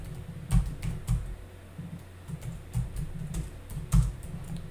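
Keys on a computer keyboard are typed in short irregular bursts with occasional harder presses, close and fairly quiet, with no talking.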